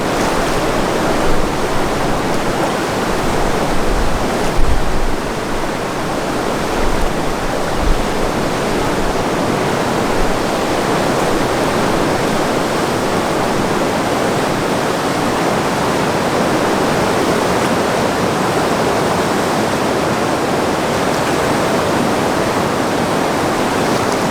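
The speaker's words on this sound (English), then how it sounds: "Rapid 6, rifle chute rapids, high water class 4" High-water class 4 whitewater rapids at Rifle Chute on the Lower Madawaska River roar as a loud, dense, unbroken rush, with occasional low thumps of water against the boat.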